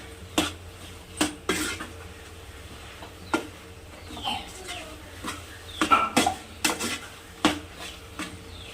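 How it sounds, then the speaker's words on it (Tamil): Coconut, sugar and ground toor dal are mixed by hand in a pot or bowl, giving intermittent sharp metallic clinks and scrapes of a utensil against the vessel at close range, with quiet background chatter and birds. "தேங்காய், சர்க்கரை, அப்புறம் அரைச்சி வச்ச துவரை மூணுத்தையும் பார்த்தீங்கன்னா நல்லா மிக்ஸ் பண்ணிக்கிட்டு இருக்கோம்."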